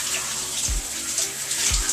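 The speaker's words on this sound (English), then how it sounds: "I'm washing my hair at the shower, yeah." Water from a shower runs in a steady hiss while someone washes their hair, with two soft low thumps against the constant spray.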